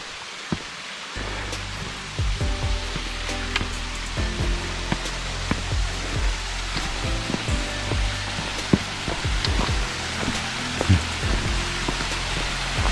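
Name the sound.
Jeolgu waterfall at Juwangsan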